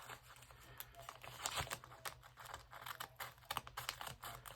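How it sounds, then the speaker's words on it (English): Scissors snip through a sheet of Cricut-cut labels, producing quiet, irregular crisp cuts and paper crinkles close by. "I'm going to finish it off with scissors."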